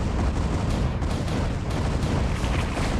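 Dense strafing gunfire from a Dune video game rattles on without pause, a loud wall of rapid shots and booms filling the whole stretch.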